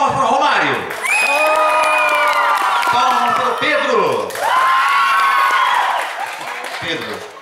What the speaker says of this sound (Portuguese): vamos lá, palmas para o Romário